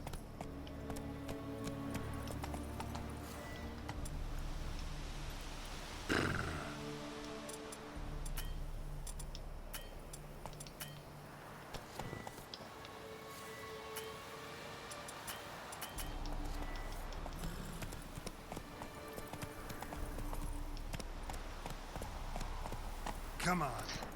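Roach the horse gallops through The Witcher 3 video game, a steady clip-clop of hooves running under game music and ambience, with a player talking over it.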